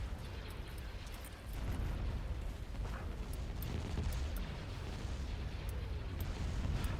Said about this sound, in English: Ion cannon shooting from the Magnificent into, well, the Subjugator.